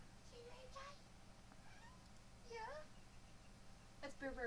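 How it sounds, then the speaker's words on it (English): A pet cat meowing three times off to the side, faint, short upward-bending cries spaced over a few seconds against a quiet room hum. "That's Bear Bear meowing, by the way."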